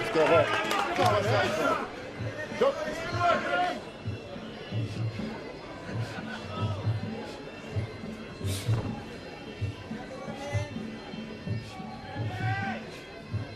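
Crowd noise at an Australian Muay Thai fight, a steady murmur of chatter and shouts from spectators, with a commentator talking over it and thudding impacts now and then.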